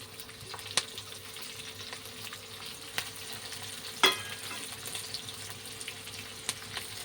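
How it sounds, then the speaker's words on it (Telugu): Green chillies and onions fry in a pan over a medium flame, making a faint, steady crackling sizzle with a few sharp pops and clicks scattered through it. "ఇప్పుడు ఇందులో వేసి ఫ్రై చేసుకుందాం."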